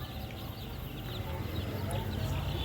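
Many ten-day-old tiger chicken chicks cheep and peep together in a dense, constant chorus, close by, with a low background hum.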